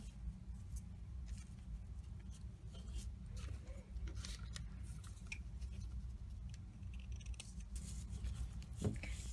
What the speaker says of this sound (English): use this lace piece as a template to cut more lace